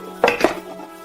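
Two quick metallic clinks of anodized aluminum camping pots being nested together, a small pot set sliding into a larger one, close and bright with a short ringing tail.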